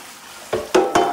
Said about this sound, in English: I'm just using a sponge that has one of those scrubby sides, medium grade